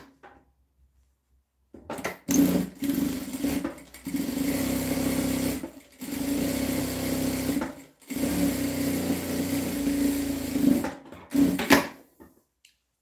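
A sewing machine stitches a dish towel in several loud, steady whirring bursts separated by short pauses, following a quiet opening.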